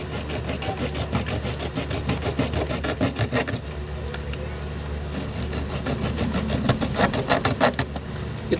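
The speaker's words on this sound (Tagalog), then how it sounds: "So lagariin natin." A hand saw rasps back and forth through a bloated capacitor in rapid, continuous strokes, loud and close, with a low background hum.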